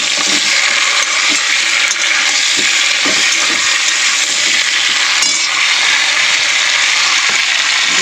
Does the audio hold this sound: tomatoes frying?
yes